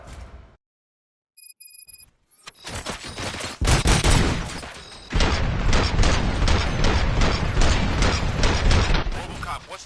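Sustained gunfire in the RoboCop Rogue City video game, played on PS5: after a brief silence and a few beeps, dense rapid shots and bursts roar continuously and loudly, with game voices speaking over the barrage.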